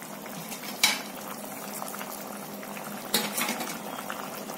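Oil-based eggplant curry (ennai kathirikai kuzhambu) simmers in a pot, bubbling steadily up close, with two brief louder stirring or utensil knocks.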